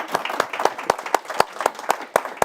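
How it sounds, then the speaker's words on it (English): Applause at a panel discussion, with one or two nearby hands clapping in a strong, even rhythm over a softer crowd clapping behind them. "Give them a big round of applause for me"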